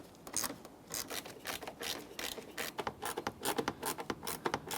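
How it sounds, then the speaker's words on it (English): Mounting screws driven into the front grille of a 2010-2013 Kia Forte Koup, with close rasping, scraping turns and plastic clicks in an uneven, rapid rhythm and no talking. "We'll continue on with our next 6 mounting screws here."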